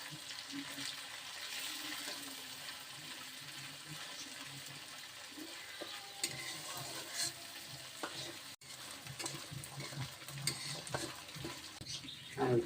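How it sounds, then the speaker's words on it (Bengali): Dried fish (shutki) frying in oil in a pan for a Pohela Boishakh meal, a steady low sizzle with occasional stirring scrapes and clicks, close and faint throughout. "এখন তেলের মধ্যে শুটকিটা সুন্দর করে ভাজতে হবে"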